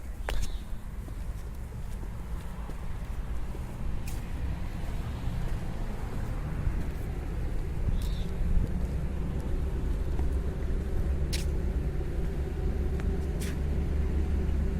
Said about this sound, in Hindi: यहाँ ट्रैफिक का शोर थोड़ा ज्यादा है।